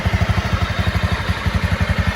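A Honda 250L Rally motorcycle engine runs close by with a fast, even, thumping pulse and a short break partway through, sounding loud and mechanical with no talking.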